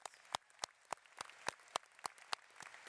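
Sparse, loose clapping from a commencement audience celebrating 2025 student-athlete graduates, with individual hand claps landing roughly every quarter second and fairly quiet, no voices over it.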